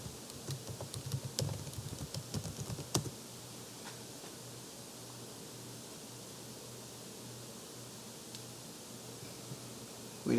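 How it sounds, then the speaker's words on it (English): Fingers tap out a password on a Windows computer keyboard: a quick burst of close, light key clicks for about three seconds, then near silence with faint room hiss. "I'll type in the password."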